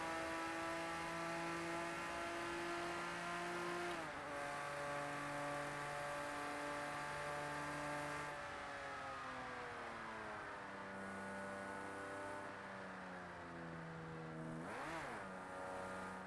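Video game racing car engine revving hard and climbing through the gears, with the pitch dropping at each shift to fourth; loud, sustained and alone.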